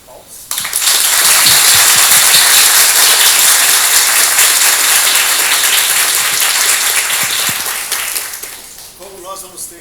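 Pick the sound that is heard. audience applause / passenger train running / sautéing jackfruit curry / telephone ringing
audience applause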